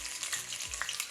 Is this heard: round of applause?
no